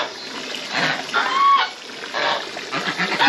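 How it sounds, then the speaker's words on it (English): Geese on a farm pond give several short, fairly close honks and clucks over a steady wash of water noise. "The geese think they own the water."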